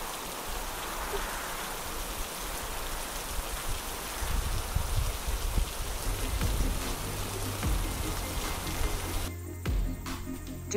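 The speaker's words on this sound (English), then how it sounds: "Oh no, it is raining." Steady rain on a farm, a dense even hiss of falling drops with low patter that runs the whole time before cutting out near the end.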